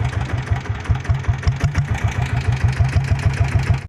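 A diesel Bullet motorcycle runs with its silencer removed, giving a loud, raw, evenly pulsing knock at idle very close up, continuous until it cuts off abruptly at the end.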